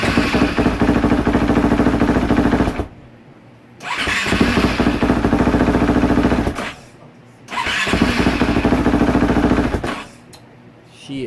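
A KTM 450 SX-F motorcycle fitted with a repaired starter clutch cranks and fires repeatedly, three loud roughly three-second bursts of starter and engine noise separated by brief quiet gaps, close to the microphone.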